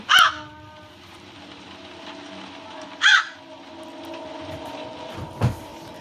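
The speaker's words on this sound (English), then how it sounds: "oh, it's a bird." A crow caws twice, a few seconds apart, with a faint low hum in the background between the calls.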